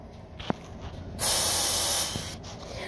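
Air sprays out of a leaking valve stem on an RV tire in a sharp, loud hiss lasting under a second, close by, after a brief faint tap.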